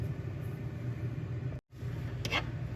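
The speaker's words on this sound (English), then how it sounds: "It's actually a space heater that's going because it's still freezing out here." Steady broadband whooshing hum of a space heater fan, constant and close, briefly cut by a short gap before resuming.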